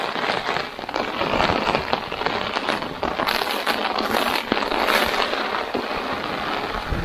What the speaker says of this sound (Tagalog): ang lakas ng hangin saka ng ulan